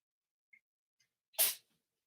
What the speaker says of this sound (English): What do you keep sneezing for?